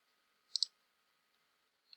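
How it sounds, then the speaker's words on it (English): A computer mouse clicks the Continue button during Cricut doormat crafting. Two quick, close, faint clicks sound in a quiet room, followed by a softer single click later. "I'm going to click Continue"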